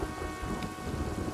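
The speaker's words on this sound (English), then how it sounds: "oh dear lord, it's raining." Rain pours steadily with low thunder rumbling through a stormy scene in the World War I trench game All Quiet in the Trenches, a dense continuous wash of sound at moderate level.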